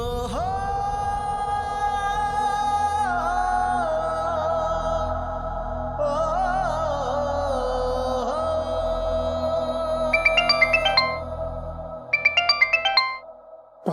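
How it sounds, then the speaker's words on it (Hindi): Electronic phone ringtone plays a sustained melodic tune, loud and steady, as a call comes in from Doctor Chawla, with brighter chiming notes near the end and no voices. "डॉक्टर चावला का फोन है।"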